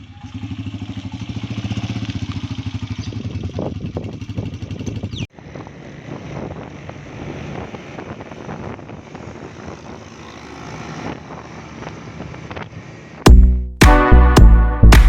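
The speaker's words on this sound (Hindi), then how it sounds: "बाइक जो है फैज़ला भाई ड्राइव कर रहे हैं" Motorcycle cruising along a road in the early morning, its engine droning steadily and fairly loud throughout, shifting in tone partway through, with clattering bumps and wind toward the end.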